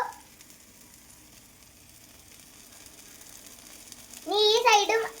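Banana slices fry in ghee with a low, steady sizzle in the background, and a voice speaks briefly over it near the end.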